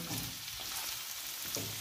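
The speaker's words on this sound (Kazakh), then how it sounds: "Міне біз жартылай фаршымызды қуырдық." Minced meat filling for chebureki sizzling in a frying pan, a brief steady crackling hiss with light stirring scrapes, quiet and without talk.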